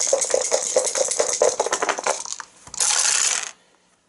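Four dice rattling and clattering on a table during an Arkham Horror board game, a loud rolling clatter that tumbles, briefly pauses, then a final rattle before stopping, close and alone.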